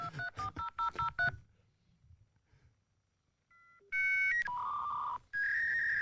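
A rapid series of telephone keypad tones opens, followed by a pause and then dial-up modem-style screeching tones and beeps that grow loud.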